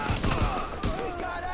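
Sidearm gunfire in Tom Clancy's The Division, fought against rioters, comes as a quick run of close shots with sharp, evenly spaced cracks over a noisy combat background.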